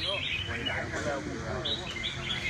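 A competition songbird at a Vietnamese bird-fighting contest gives short, high chirping calls in scattered bursts, moderately faint beneath people talking nearby.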